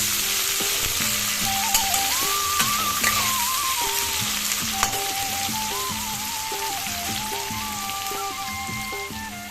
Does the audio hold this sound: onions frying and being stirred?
yes